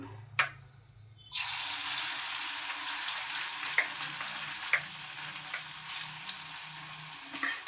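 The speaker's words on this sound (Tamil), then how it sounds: "இப்போ எண்ணெய் சூடானோன்னா நம்ம மீன்லாம் எடுத்து பொரிச்சிக்கலாம்." Fish drops into hot oil after a brief quiet moment, setting off a sudden loud, dense sizzle that continues steadily and slowly eases, with faint crackles and pops throughout.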